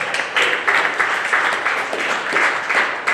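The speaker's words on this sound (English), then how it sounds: "Give yourselves a round of applause for making it out." A comedy-show audience applauds and cheers steadily for a few seconds, a dense wash of clapping close and loud with no break.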